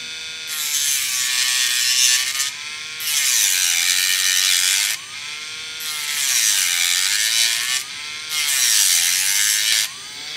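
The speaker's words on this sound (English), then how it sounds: "I've got it ground down enough to where I think I've pretty much got it flat with the scale" A knife handle pin is ground flush with the scale in four repeated passes, each a loud, rasping whir that rises and falls, up close.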